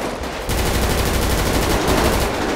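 Gunfire in the GTA 5 roleplay video game: loud, rapid automatic bursts that run continuously and close up, with no voices over the shooting.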